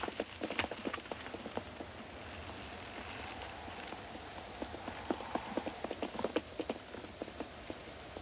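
Horse hooves clip-clop in an uneven, lively rhythm, fairly close at first, then easing and picking up again, over a soft background wash like wind or light rain, with no speech.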